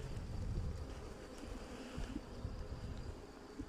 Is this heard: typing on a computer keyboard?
no